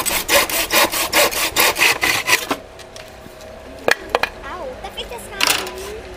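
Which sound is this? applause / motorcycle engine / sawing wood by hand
sawing wood by hand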